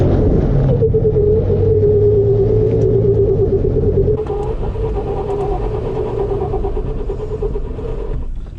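A Toyota off-road vehicle climbs a hill obstacle at Cleghorn with a steady, loud low engine rumble and a sustained mid drone, which eases slightly partway through as the crawl continues with faint scraping.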